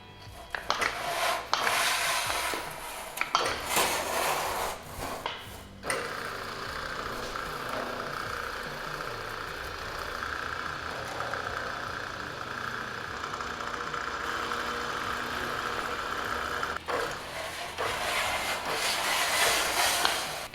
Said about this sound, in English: So I'm using a Eastwood forming set, tipping wheel, just trying to make this step up.